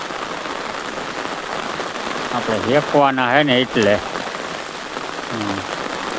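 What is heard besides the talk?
heavy rain falling on crops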